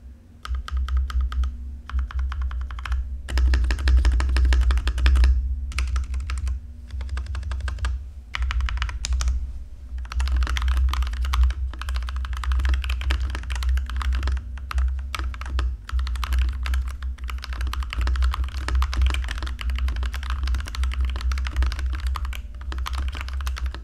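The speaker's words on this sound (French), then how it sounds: "une petite démonstration au niveau de la qualité de frappe" Fast, steady clacking of keys on a Corsair K65 Plus Wireless mechanical keyboard, close up, with brief pauses between bursts and no voices.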